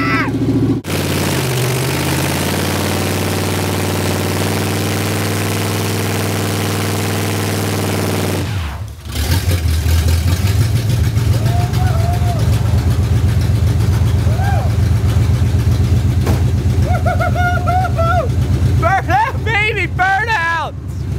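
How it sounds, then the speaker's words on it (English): A loud, raw engine of a 1979 Chevrolet El Camino with open headers and no exhaust idles with a deep rumble, then revs sharply with rising and falling pitch, voices talking in between. "Pretty much the gem of this car is listening to its sound"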